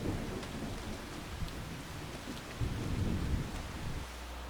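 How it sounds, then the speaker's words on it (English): Steady rain with rumbling thunder in the Farming Simulator 25 video game, a continuous dense wash of drops under low rolling rumbles, swelling briefly near the end and then easing. "Yay, the rain's done."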